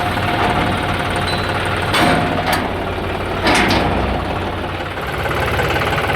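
A tractor engine idles with a steady low rumble, broken by a couple of short bursts of rattling noise.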